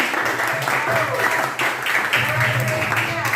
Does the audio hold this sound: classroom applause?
yes